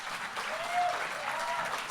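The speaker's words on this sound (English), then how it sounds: "Let's give them all a round of applause." Brief applause at a Rotary Club breakfast awards event honoring the year's outstanding teachers, a soft, fairly distant patter of many hands clapping with faint room murmur.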